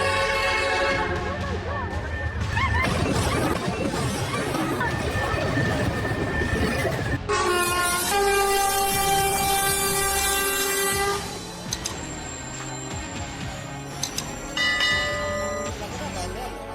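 A train rumbles loudly through a crossing after colliding with a truck, with a blaring horn and clanging crossing bells, heavy grinding noise underneath, and voices shouting over it.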